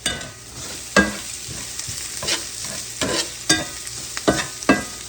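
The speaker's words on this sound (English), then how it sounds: "I have about 4 cloves of garlic that I've chopped up, and they are going in there." About four cloves of chopped garlic sizzle in a hot skillet, close and loud, with repeated stirring scrapes punctuating the steady frying hiss.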